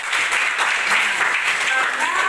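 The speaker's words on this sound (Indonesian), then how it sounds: "Tepuk tangan." Students in a classroom applaud, giving a short, even burst of clapping that sounds close and fairly loud, with some voices mixed in.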